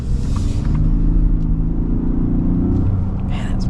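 A 2026 Ram 1500 Tungsten or Ford F-150 Platinum pickup truck accelerates on the road, its engine a loud, steady low rumble heard from inside the cab, rising in pitch slightly before easing off.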